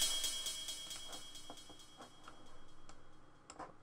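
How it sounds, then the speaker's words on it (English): A ride cymbal in a dark violin and piano trap beat, struck in a steady ticking pattern with automated delay, the repeats smearing and fading quietly, heard alone. "I've just got this ride but with a bit of delay on it."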